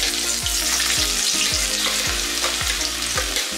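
Ginger and garlic frying in hot oil for chicken chorchori, with a loud steady sizzle close up and a regular rhythm of spatula strokes sweeping the pan about twice a second.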